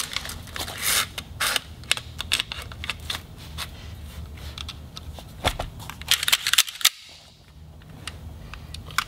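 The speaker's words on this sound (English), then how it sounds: "Shove it back in the gun." Gun parts on an SU-15 rifle clack and click as a component is shoved back into place, giving a string of sharp close metallic snaps and rattles.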